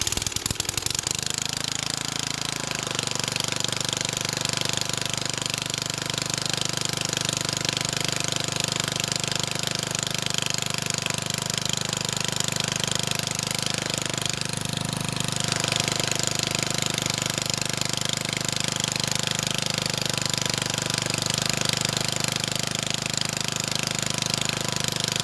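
Old rotavator tiller fitted with a 3.5HP Briggs and Stratton engine, starting within seconds and then running steadily with a loud, close, rattling drone that continues to the end.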